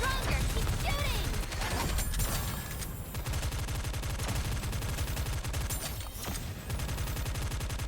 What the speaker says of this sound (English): Faster, stronger, keep shooting!